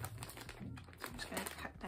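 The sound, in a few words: cutting open a yarn subscription package bag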